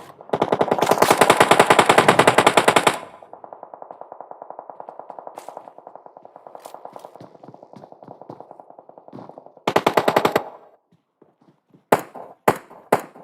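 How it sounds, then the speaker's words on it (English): Rapid automatic gunfire in a competitive video game match, several long sustained bursts with echoing tails and a few isolated single shots near the end, loud and close with no talk over it. "You see shots coming in from several different angles"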